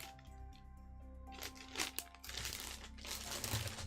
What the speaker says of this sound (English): adding some of this reindeer moss, which also comes in a variety of colors